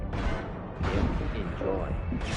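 Heavy gunfire and explosive impacts in the Mass Effect 2 Legendary Edition combat on Insanity difficulty, loud and dense, arriving in dense bursts with booming hits under shouted voice lines.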